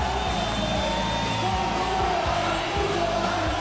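A large crowd at a Red Bull X-Fighters freestyle motocross event in Madrid cheers in a steady, dense roar, with scattered whoops and yells rising above it throughout.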